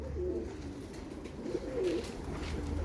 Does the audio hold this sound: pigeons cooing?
yes